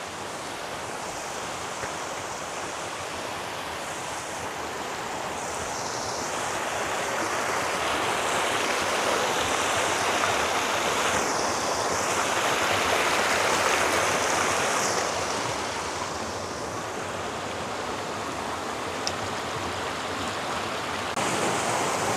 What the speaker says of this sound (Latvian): esam nonākuši vietā,